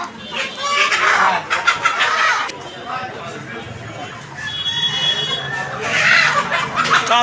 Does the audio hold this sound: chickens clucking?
yes